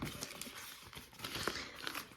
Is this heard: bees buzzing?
no